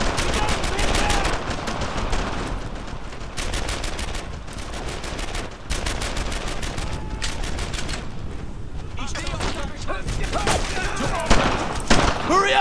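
Heavy sustained gunfire from the Brothers in Arms: Earned in Blood video game, dense overlapping rifle and machine-gun bursts laying down covering fire, loud and continuous throughout with battlefield clatter.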